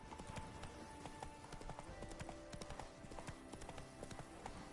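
A horse walks in the video game The Witcher 3, its hooves clip-clopping in a steady, even rhythm throughout, close and clear, with no speech over it.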